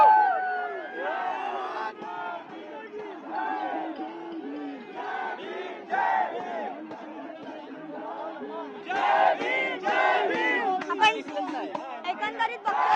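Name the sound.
crowd chanting "Azadi" slogans at a rally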